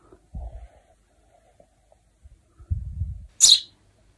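A young bird sits in its nest and gives one short, sharp high-pitched chirp near the end, after a few soft low thumps and rustles nearby.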